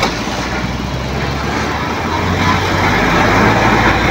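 Steady, loud road traffic on the Maharlika Highway national road between Gumaca and Lopez, Quezon, with many single motorcycles and other vehicles rumbling past continuously at close range.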